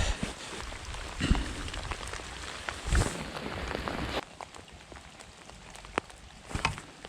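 Rain pours outdoors beside a trout-fishing spot, a steady close hiss of drops on surfaces with a few louder patters and rustles, with no voices.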